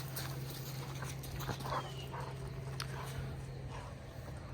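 A dog making faint, brief sounds, likely soft whimpers, over a steady low hum and general background noise outdoors, with no clear barking.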